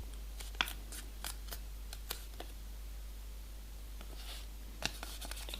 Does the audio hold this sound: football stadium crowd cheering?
no